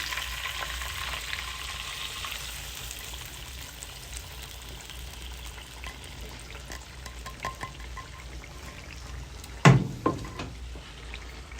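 Hot butter with burnt peppers sizzles as it is poured over meat pilaf, a steady frying crackle with a sharp louder splash near the end.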